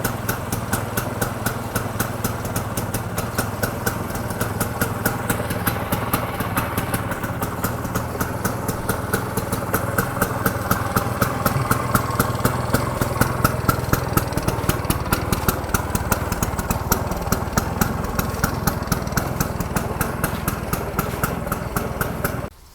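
A 1965 Vespa VBB scooter engine idles steadily with a rapid, even putter of firing pulses, close and continuous throughout with no talking.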